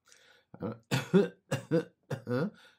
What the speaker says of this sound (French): le réflexe premier va être la toux